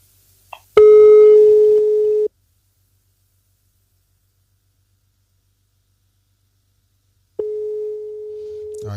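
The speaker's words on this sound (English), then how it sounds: "I think that number now is redialing itself." A telephone line gives two long, steady flat tones separated by several seconds of silence while a number redials, the first preceded by a short click and faint chirp.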